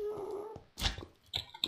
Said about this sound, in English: That growling noise.